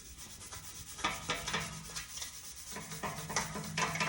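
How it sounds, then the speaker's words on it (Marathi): A brush scrubbing one side of a silver item during household cleaning, a close, steady rasping rub in repeated strokes of varying strength, no talk. "तर ही बाजू आपण आता घासायची आहे ब्रशने"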